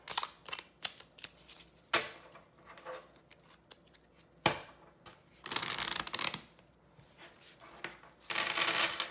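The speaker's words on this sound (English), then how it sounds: "Let's give it a shuffle and see what we get." Mini oracle cards being shuffled by hand, several crisp riffling bursts and flutters separated by short pauses and soft card taps, close and fairly loud with no talking.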